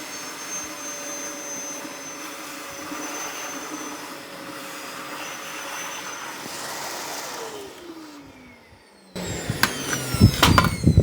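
A Parkside PWS 20 wet vacuum extractor hums steadily as it draws up ten litres of water, its motor pitch sliding down before a burst of loud, rough slurping and rattling noise close by.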